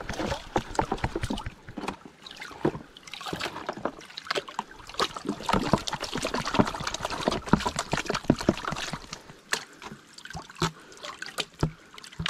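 Water sloshes and trickles in a gold pan held outdoors at a riverside digging spot, with repeated splashing swirls and pours running steadily close by, no voices heard.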